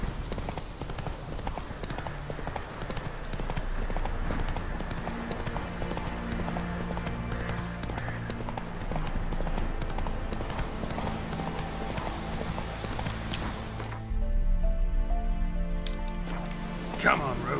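Roach the horse gallops in The Witcher 3, a steady clip-clop of hooves running continuously under game music and effects, with someone talking over it.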